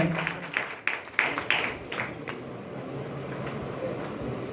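An audience at a church retreat feedback session in Vagamon claps together in a brief burst of applause that quickly thins out and fades into room murmur.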